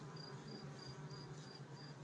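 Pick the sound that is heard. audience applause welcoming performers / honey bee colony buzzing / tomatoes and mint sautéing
honey bee colony buzzing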